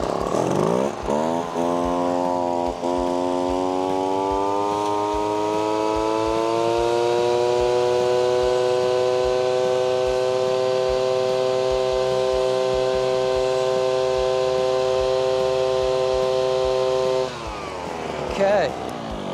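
A gas-powered 24cc leaf blower starts up, its engine climbing to a loud, steady high-pitched whine that holds for about fifteen seconds before cutting off, with some voices around it.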